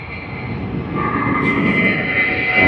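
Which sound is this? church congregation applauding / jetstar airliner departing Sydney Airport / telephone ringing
jetstar airliner departing Sydney Airport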